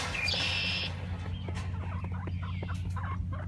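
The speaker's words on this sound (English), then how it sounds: "Boy, that turkey, look at him. He is, oh, can you hear him?" A farm turkey gobbles and clucks loudly close by, giving a short high burst followed by a rapid, rattling run of calls over a steady low hum.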